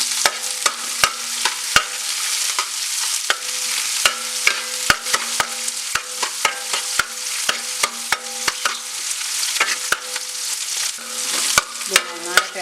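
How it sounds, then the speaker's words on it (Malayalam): Green chillies, ginger and garlic frying in oil for a Malabar mutton curry, stirred with frequent sharp clicks and scrapes of a spoon against the pan over a constant sizzle, close up and without speech. "ഇത് നന്നായിട്ട് ഇളക്കി ഇഞ്ചിയും വെളുത്തുള്ളി നന്നായിട്ടൊന്ന് മൂത്ത് വരണം."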